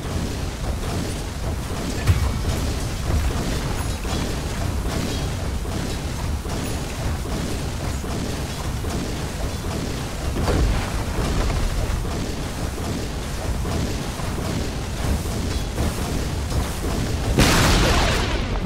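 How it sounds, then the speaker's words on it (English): Booming, rumbling destruction of a lane tower in the Dota 2 match, with continuous loud battle noise and explosive crashes throughout and a bright burst near the end. "Radiant's bottom tower has fallen."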